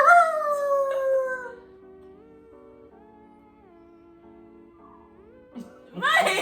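A dog howls loudly and close in a long wavering tone that fades into quiet, then a second rough vocal burst breaks in at the end.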